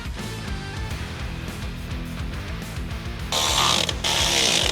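Bolts on Toyota 4Runner bump stops being snugged with a tool, giving a close mechanical whir and clicking ratchet-like rattle that turns louder and harsher near the end.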